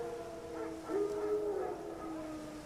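Wild dogs howl in The Witcher 3, a long, wavering, rising and falling wail from a distance, alone over a low ambient background.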